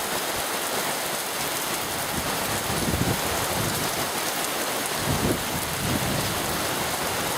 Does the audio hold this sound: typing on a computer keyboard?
no